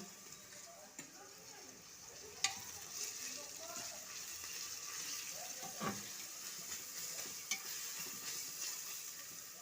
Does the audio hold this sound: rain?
no